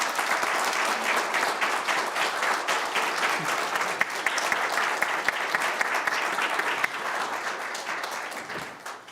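A church congregation at a Sunday service gives a round of applause, a dense, steady roar of clapping that holds for several seconds, then softens and trails off.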